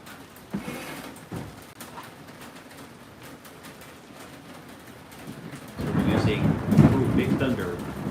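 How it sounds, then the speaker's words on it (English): Rolling thunder rumbles through a stormy outdoor setting, a low steady growl that swells into a louder, heavier roll near the end, with faint rain and birds in the background. "thunder."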